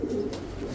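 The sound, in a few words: military breed pigeon cooing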